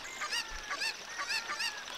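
A cucco chicken in the video game Zelda: Ocarina of Time squawks in a quick run of repeated honking cries, loud and close, with no voices over it.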